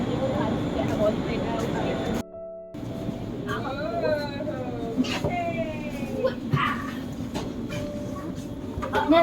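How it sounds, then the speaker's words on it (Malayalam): A passenger train in Scotland rumbles and hums nearby with squealing, sliding tones, while voices talk over it. "ഇതാണ് നമ്മൾ പോകുന്ന ട്രെയിൻ"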